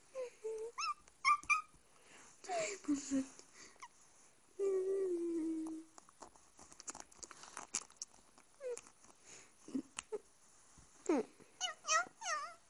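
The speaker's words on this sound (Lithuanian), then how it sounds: "Taip, čia mano šuniukai." Puppies whimper close by in a string of high, thin whines and short squeaks spread across the clip, with a few soft voices speaking briefly between them.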